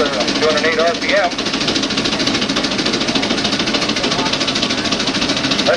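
A steam traction engine running under load on a dynamometer, a dense, steady rhythmic chugging and rattling close by, with a voice briefly over it at the start.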